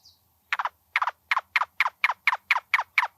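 A cuckoo gives a steady series of about ten evenly spaced, throaty double-pulsed notes with a knocking quality, loud and close in an otherwise quiet setting.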